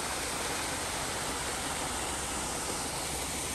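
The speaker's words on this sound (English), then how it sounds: "Look how beautiful this waterfall is." A waterfall gives off a constant broadband rush of water, dense and steady from start to end with no break.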